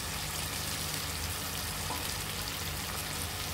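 Tomatoes with cardamom, turmeric, chili and coriander powder sautéing in a pan, a soft, steady sizzle that runs on without a break at low volume.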